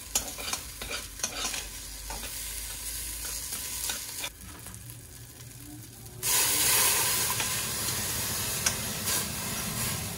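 Chopped abalone innards and glutinous rice stir-fry in sesame oil, a steady close sizzle with scraping stirs that swells louder partway through, no voices.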